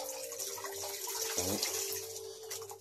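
Close sloshing and splashing of a rag dunked in a basin of soapy water for bicycle cleaning, a steady watery swirl with one fuller plunge midway.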